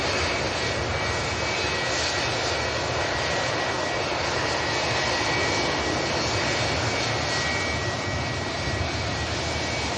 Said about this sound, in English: goes to this aircraft here.